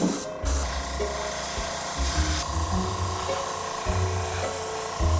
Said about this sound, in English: we put some colors into our airbrush machine and we are going to touch him up